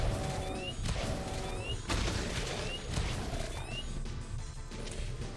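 Loud, dense sci-fi weapon fire from a video game prism cannon, with rapid crackling blasts and booming impacts, continuous and chaotic throughout.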